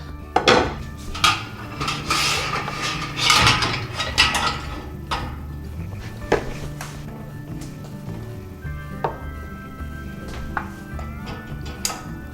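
Glass jars of home-canned peach-whisky jam come out of a boiling water bath with clinking and clattering, and a small, sharp lid-sealing pop stands out among the handling noise.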